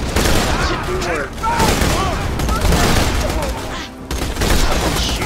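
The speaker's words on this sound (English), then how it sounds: "Someone's shooting me." Gunfire in the video game Borderlands 2, rapid overlapping bursts of shots and impacts filling the scene, loud and close, with a voice talking over the shooting.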